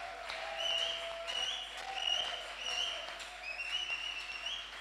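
A church congregation applauds during a service, a moderate swell of clapping that rises and falls, with a sustained tone or voice lingering above it.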